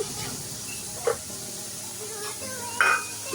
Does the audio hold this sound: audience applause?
no